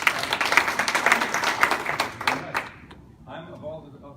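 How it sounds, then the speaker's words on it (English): An audience at an evening event claps in a warm round for a dentist being introduced, a dense burst of many hands that thins out and fades after a few seconds as the speaker begins talking. "please give a warm round of applause to Dr."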